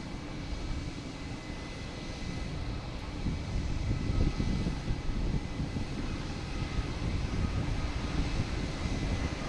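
A United Boeing 737 MAX 9 flies past on approach to runway 4 Left at Boston Logan, its engine roar a steady, moderately loud rumble with broadband wind-like hiss throughout.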